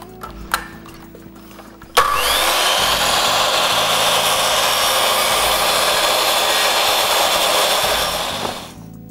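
A miter saw cuts baseboard at a 45-degree angle: after a faint click or two, the motor whines up sharply and holds a loud, steady buzzing cut for about six seconds, then winds down.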